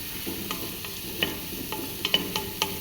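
Chopped ginger frying in a pan for rice porridge while being stirred, with a soft sizzle under a series of light, irregular scraping clicks from the utensil, close and fairly loud.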